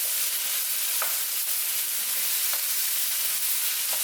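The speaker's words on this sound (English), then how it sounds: "Let that fry a minute." Chopped spinach, previously frozen, fries in olive oil in a pan with a steady, close, bright sizzle and a few faint stirring clicks.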